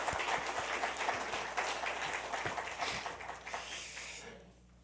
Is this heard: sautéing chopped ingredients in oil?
no